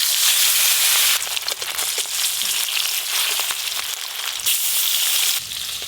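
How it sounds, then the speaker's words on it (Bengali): Pieces of hilsa fish fry lightly in hot oil, producing a loud, close, continuous sizzle and crackle that persists throughout. "একদম হালকা করে ভেজে নেব।"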